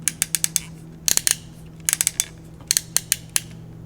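Sharp plastic clicks and ratcheting snaps come from a VIOFO 4K dual dash cam mount being adjusted, in quick irregular bursts up close with no talking.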